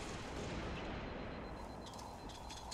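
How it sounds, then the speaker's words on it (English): Grenades exploding in the Halo video game during a 2v2 match, heard as a dense, continuous rumbling roar of blasts that fills the whole moment at moderate level, with no clear gaps. "They threw nades at me! All four nades!"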